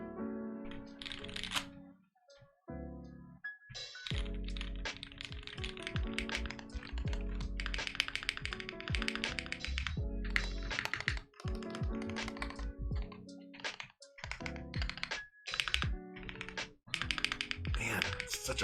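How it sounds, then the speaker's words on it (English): Rapid, uneven typing on a KBD8X MkII mechanical keyboard fitted with Holy Panda switches, with close, loud clacky keystrokes in dense bursts and a notably loud spacebar, separated by brief pauses. "Man, it's such a loud spacebar on this keyboard."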